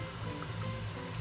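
Water pouring steadily into a soup pot while cooking lentil soup, a soft continuous rushing trickle at low level with no talk over it.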